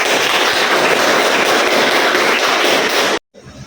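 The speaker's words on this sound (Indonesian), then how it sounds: "berikan aplaus dulu." An audience in a university lecture room breaks into loud, dense clapping that fills the clip steadily for about three seconds before cutting off abruptly.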